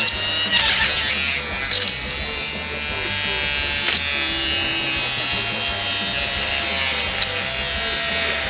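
Small novelty gadget shredding paper into confetti gives a harsh, steady buzzing grind with gritty rattles and occasional sharper crunches, close and continuous throughout.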